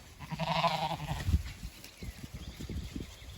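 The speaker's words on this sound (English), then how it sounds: "going to let sheep out" Sheep being let out onto tall green pasture bleat close by, a long call near the start followed by rustling, hoof steps and scattered faint bleats, with no talking.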